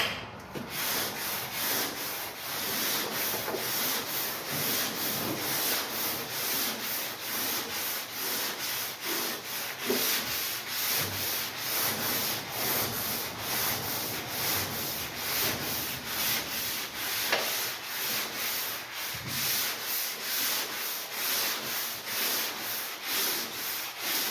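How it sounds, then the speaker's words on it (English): Steady hand sanding across a guide-coated car body panel, a continuous close scratchy rasp with rhythmic back-and-forth strokes that runs unbroken for the whole stretch, no talking. "So now we're going to sand this thing."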